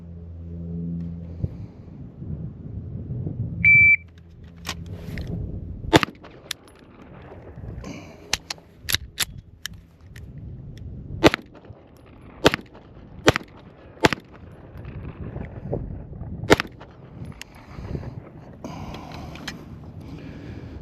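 Pistol shots fired during a range drill that includes a failure to fire and a tap-rack malfunction clearance. A dozen sharp, loud cracks come at uneven intervals, some in quick pairs, over a low outdoor rumble.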